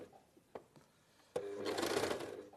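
A sewing machine stitches along a thicker seam on a garment sleeve: a few light clicks, then a fast, loud whirring burst of stitching for about a second, alone.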